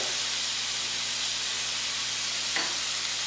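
Tomatoes sautéing in a pan, giving a steady, even hiss of sizzling that continues unbroken throughout, with one faint clink near the end.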